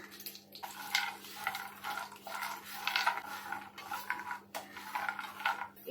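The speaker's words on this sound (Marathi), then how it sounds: "हे ना बदाम पण आपले छान भाजले गेले" Almonds roasting in a spoonful of ghee are stirred in a pan for fenugreek laddus, heard as quiet, rhythmic spoon scrapes against metal repeating about once a second over a faint low hum.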